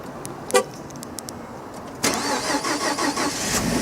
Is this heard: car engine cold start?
yes